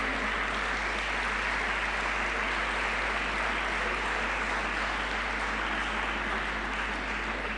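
A school anniversary audience applauds teachers with steady, dense clapping that fills a large room, sustained evenly throughout with no voices standing out.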